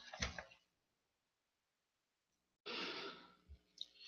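Heavy breathing from a man, a loud breath at the start, then silence, then a long exhale with a short breath after it, close to the microphone and with no talking.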